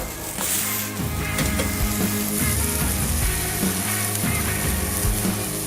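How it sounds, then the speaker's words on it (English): Burgers sizzle steadily on a grill pan, the frying hiss running continuously beneath louder rhythmic background music. "Give them a quick flip."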